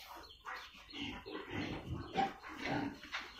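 Pigs on a household pig farm of nearly a hundred animals grunt and squeal in a busy, overlapping chorus, with several animals close by and one sharp squeal standing out near the middle.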